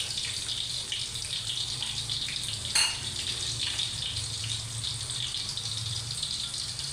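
Garlic and onion sauté in hot oil for a Filipino pakbet, giving a steady, close sizzle throughout with a brief clatter of the pan or utensil midway.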